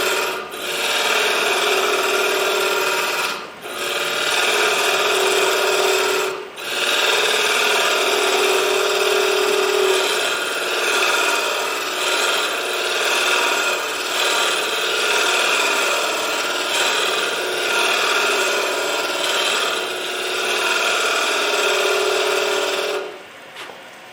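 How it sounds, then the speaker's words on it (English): A lathe tool cuts a spinning ring blank of stabilized wood and Fordite with a steady, close, rasping scrape that runs for about twenty seconds, broken by two brief pauses near the start and stopping at the end. "So there I've cut about half of the material away."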